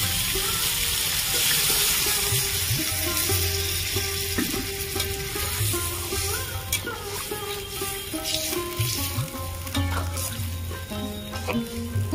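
Water poured into a sizzling pan of koi fish and eggplant curry sets off a loud, steady hiss and bubbling frying noise, with clatters of stirring over the whole stretch.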